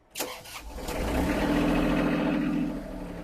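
A Kubota GL261 compact tractor's small diesel engine cranks briefly on a warm day, catches almost instantly without glow plugs and settles into a steady, close clattering idle.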